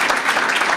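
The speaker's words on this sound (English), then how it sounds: "I'd like to give a nice applause for you guys." Audience applause at a city Hall of Fame ceremony, a dense, steady wash of many hands clapping together, sustained and fairly loud for a brief moment.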